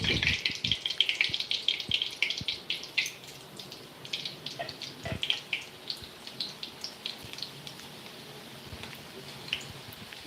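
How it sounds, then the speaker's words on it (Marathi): Onion bhaji (kanda bhaji) dropped into very hot oil, a close, continuous sizzle with dense crackling pops that is strongest at the start and settles into a steadier fizz. "मस्तपैकी गरमागरम कडक तेलामध्ये कांदा भजी सोडतायत पप्पा"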